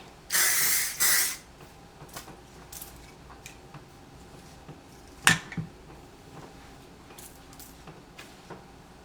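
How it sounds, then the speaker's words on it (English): Two short bursts of hairspray hissing close by at the start, followed by quiet handling noises and a sharp click or clatter midway. "So I just like to spray here, just so my hair keeps away from my face"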